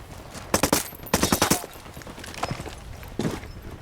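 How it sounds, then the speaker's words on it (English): Automatic rifle fire in the Ghost Recon Wildlands video game rattles out in several quick bursts of sharp shots, with a short pause between volleys over a continuous noisy background. "Opening fire."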